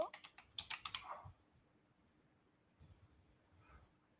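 Rapid typing on a computer keyboard, a quick burst of close keystrokes for about a second, then near silence with faint background noise.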